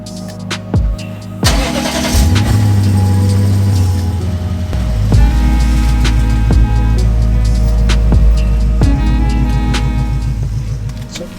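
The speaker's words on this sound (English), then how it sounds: "get the car up on these ramps" A Lexus IS F engine idles and revs as the car drives up onto ramps, with a steady low rumble, a few throttle blips and small knocks, close and fairly loud throughout.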